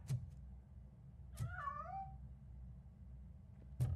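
A cat in the video game RoboCop: Rogue City gives a single drawn-out meow, clear and close in an otherwise quiet scene, with soft thumps around it.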